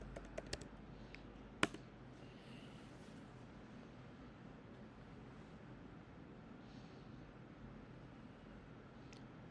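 Typing a command on a computer keyboard: a few faint clicks and one sharper keystroke near the start, then a quiet room hum with no voices.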